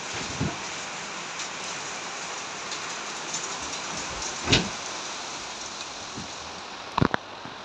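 Steady, soft rain falls as a faint continuous patter, with a few louder drops or knocks standing out briefly near the middle and end.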